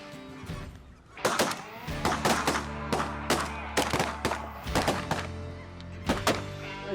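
Shotguns fire during a waterfowl hunt in a Saskatchewan blizzard, a rapid volley of loud sharp blasts from several guns in close succession, with geese honking in the background.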